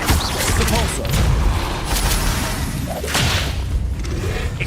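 Repulsor spell cast in Hogwarts Legacy, a heavy whooshing blast with deep thuds and booming impacts swelling twice, loud and close, amid busy combat effects.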